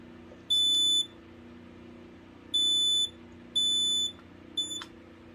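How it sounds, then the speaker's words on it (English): A Kidde KN-COSM-9000 dual-sensor ionization/photoelectric smoke alarm with a piezo sounder, in test mode, gives three loud, shrill, piercing beeps at uneven intervals, then a brief chirp, over a low steady background hum. "It is the Kidde KN-COSM-9000. It is a dual sensor ionization / photoelectric alarm."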